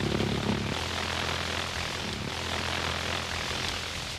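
A German V1 flying bomb from the Second World War, driven by a pulse jet engine, drones loud and steady with a coarse buzzing throb that holds for the whole stretch before cutting away abruptly at the end, with no voices.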